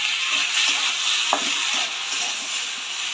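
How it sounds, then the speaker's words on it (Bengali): Bottle gourd stems go into a pan of mung dal with a constant loud sizzle, broken by soft scraping and tapping of stirring and one sharp knock, with no talking. "এবার আমি যে লাউ ডাঁটাগুলো ছিল ওগুলো দিয়ে দেব।"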